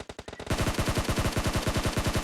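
Automatic gunfire in PUBG Mobile, with a quick, lighter burst of shots followed by a loud, sustained stream of rapid, evenly spaced rounds, close and dominant.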